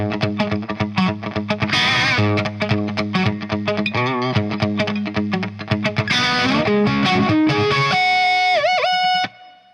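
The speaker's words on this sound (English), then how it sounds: "And then the shuffle rhythm comes around again." A shuffle rhythm rolls along on a distorted electric guitar, with choppy chords and quick runs, ending in ringing harmonics bent with a whammy-style dip before cutting off.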